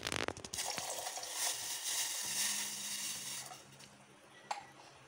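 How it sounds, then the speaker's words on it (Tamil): A quiet, steady bubbling hiss of water simmering in a pot, with a few light clinks of metal. "தண்ணி நல்லா கொதிக்கிற அளவு வந்துருச்சுங்க"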